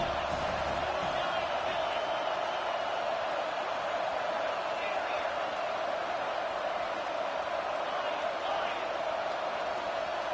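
A packed stadium crowd in the NCAA 25 college football game, Arkansas against Ole Miss, roars as a steady, unbroken wall of noise with commentary voices over it.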